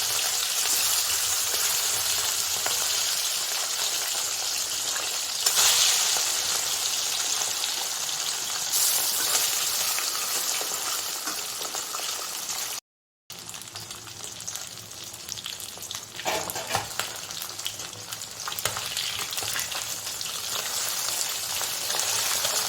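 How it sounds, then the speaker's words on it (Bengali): Long bata fish fry in smoking-hot oil, giving a continuous rain-like hiss and crackle up close, briefly cutting out midway before the sizzling resumes. "তেল ভালো গরম হয়েছে। বাটা মাছগুলো আগে ভাজি, লম্বা লম্বা বাটা মাছ"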